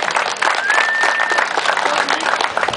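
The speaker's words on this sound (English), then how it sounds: "So if we get a round of applause for each one as I read through them." A crowd at an outdoor police torch run event applauds the participating teams, sustained clapping with a few whistles and cheers mixed in.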